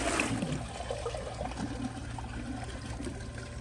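Water is poured from a bucket into a Glacier Bay PowerFlush toilet bowl, a faint splashing trickle that opens with a stronger pour and then settles into a quiet, steady running sound.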